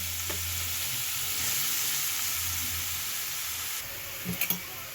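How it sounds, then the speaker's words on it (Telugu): Grated carrots frying in ghee in a pan for carrot halwa give a steady, close sizzle, with a few soft stirring knocks near the end and no talking. "ఈ క్యారెట్ మనకి పచ్చివాసన పోయి బాగా దగ్గర పడేంత వరకు ఈ నెయ్యిలోనే వేపుకోవాలి."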